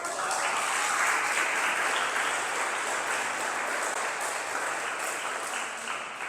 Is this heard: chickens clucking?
no